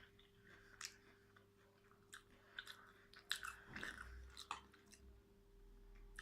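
Soft, wet crunching and squishing as a mouthful of milk-soaked Lion cereal is chewed close to the mic, in irregular bites over a low steady hum.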